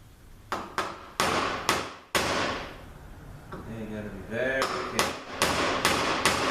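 A hammer strikes a bushing into a ZF6HP19 transmission in a series of sharp, ringing metallic blows, some quick pairs and some spaced out, with a person talking briefly between hits.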